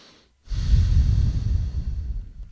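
A long, deep inhalation through the nose, close and loud, starting after a brief pause and sustained for about two seconds.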